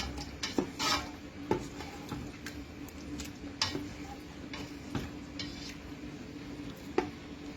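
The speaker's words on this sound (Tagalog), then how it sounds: "Haluin lang po natin." White pasta sauce with cream stirred in a pot, close and fairly quiet, a spoon tapping and scraping the metal in irregular strokes over a low simmer.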